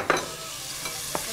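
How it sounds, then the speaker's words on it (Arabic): Onions and tomato paste are stirred in a frying pan, with a soft background sizzle and two or three quick, distinct scrapes of the spoon over a short moment. "نقلب."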